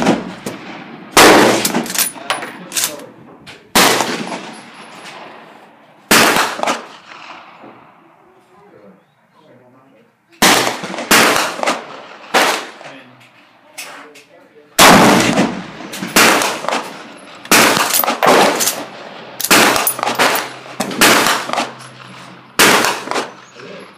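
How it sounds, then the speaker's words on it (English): Repeated gunshots from a Mosin M44 rifle fired outdoors, loud sharp cracks with long echoing tails, spaced irregularly a second or more apart across the clip, with people talking between some of the shots. "Alright, BAM shooting my"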